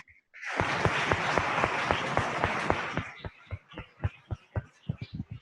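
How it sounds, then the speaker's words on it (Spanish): An audience at a school talk in Fuente Palmera, Córdoba claps loudly in a dense, sustained burst that after a few seconds thins into scattered, separate handclaps tapering off. "te vamos a dar las gracias con un aplauso muy fuerte desde Córdoba"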